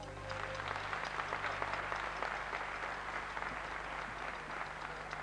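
Steady audience applause at a concert, a dense even roar of many hands clapping that continues throughout with a faint hum underneath.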